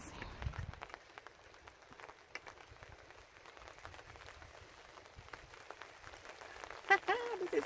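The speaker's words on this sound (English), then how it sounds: "So I love the rain." Steady light rain patters over a lake with dense, soft drops. A few louder taps come near the end, and no thunder is heard.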